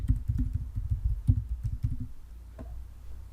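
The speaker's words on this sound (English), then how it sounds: "Type the password for user root" Keys on a computer keyboard tapped in quick uneven bursts while a root password is entered on a local machine, then a pause and a few final strokes, close and moderately quiet.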